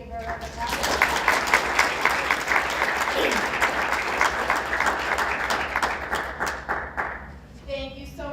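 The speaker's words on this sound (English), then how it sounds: "Let's give her a round of applause." Audience applause at a school board of education meeting, honoring a student marching leader: sustained dense clapping for about seven seconds, with a brief voice near the end as it fades.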